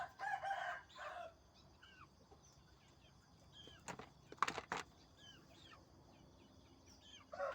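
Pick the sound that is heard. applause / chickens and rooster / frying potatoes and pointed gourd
chickens and rooster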